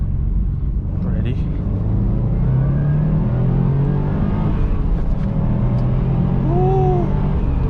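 2020 Subaru WRX STI accelerating hard through the gears, heard from inside the cabin as a loud, continuous engine roar with climbing pitch and a brief gear-change dip, a voice speaking over it.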